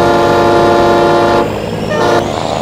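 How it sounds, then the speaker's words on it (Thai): A loud horn note that sounds like a train horn, sustained as a steady blast for over a second then sounding again more briefly, near and alone out in muddy farm fields. "นี่มันบีบรถไฟชัดๆนี่หว่าคุณผู้ชม"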